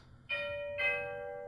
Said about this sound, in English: It's my doorbell.